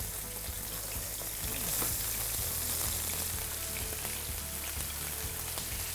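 Chicken breast sears top-side down in a hot pan, a steady loud sizzle and crackle of frying filling the clip with no talk.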